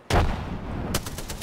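A burst of gunfire rings out in a video game, a sharp loud shot followed by a dense stretch of rapid rattling reports, with a second sharp crack near the end.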